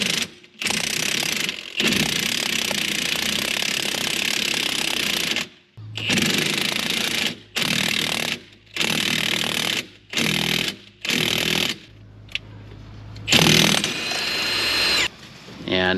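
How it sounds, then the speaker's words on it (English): A new wheel bearing is pressed into a 2004 Honda CR-V hub, with loud, harsh mechanical grinding bursts that come in uneven runs separated by short silent pauses. "And here I am pressing in the new bearing."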